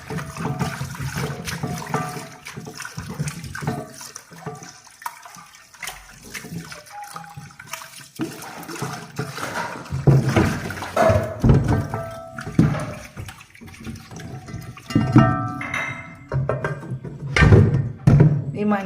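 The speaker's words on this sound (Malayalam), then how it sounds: "ഈ മൺചട്ടിയുടെ ഉള്ളിലിട്ട് നമ്മളിതാ ഇങ്ങനെ നന്നായിട്ട് ഉരച്ച് കഴുകിയ" Sardines are scrubbed and washed by hand with water inside a clay pot, a steady close sloshing and rubbing of wet fish against earthenware with splashes and soft thuds throughout.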